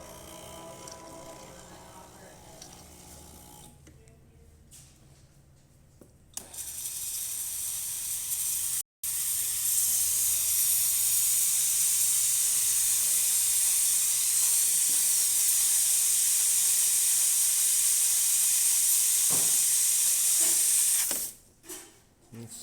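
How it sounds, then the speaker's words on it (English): The steam wand of a Breville Oracle Touch espresso machine lets out steam after being found almost clogged: a soft hiss builds into a loud, steady rushing jet that holds for about fifteen seconds and then cuts off, with no talk over it. "So let's test the steamer."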